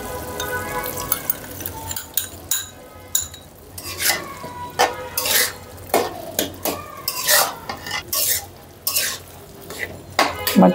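Batua greens with rice flour being stirred in a pan, with repeated sharp scrapes and clinks of a utensil against metal in an uneven rhythm over a low background sizzle.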